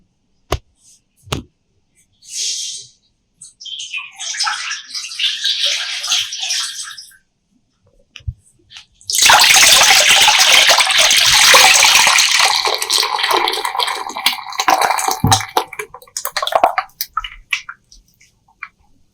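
About six litres of water are poured into a pot for making hair oil. Short splashy bursts come first, then a loud, steady gushing pour that runs for several seconds before tapering into scattered drips and splashes.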